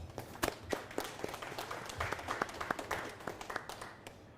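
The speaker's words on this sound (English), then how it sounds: "Big round of applause, please." Crowd applause with scattered individual claps, moderately loud and continuous, tapering off at the end.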